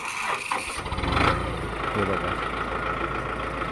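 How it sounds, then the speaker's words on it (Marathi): A tractor engine cranks and catches, then settles into a steady mid-pitched idle, heard close with someone speaking briefly over the start. "आता बघा हे कशा प्रकारे दादा चालू करतायत ट्रॅक्टर"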